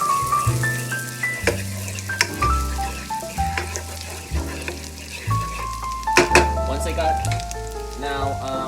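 Shallot sizzling in a hot pan, a steady frying crackle under a recurring musical background, with no clear voice over it.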